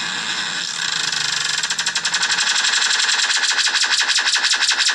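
A homemade amplifier gives off a harsh, distorted electronic tone. It breaks into fast, regular pulsing zaps that sound like a laser beam, growing louder and quicker, with no talking over it.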